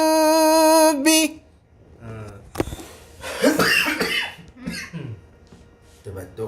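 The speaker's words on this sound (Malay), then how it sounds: "Kita batuk." Coughing breaks out among a group during a Qur'an recitation lesson, a few rough bursts following a sustained chanted tone, close and fairly loud, with muffled voices between the coughs.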